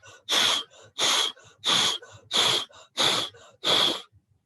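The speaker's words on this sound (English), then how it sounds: "Exhale forcefully." Six sharp, forceful breaths puff out in an even rhythm about once a second during a face yoga breathing exercise, each a loud, close, breathy burst separated by brief quiet.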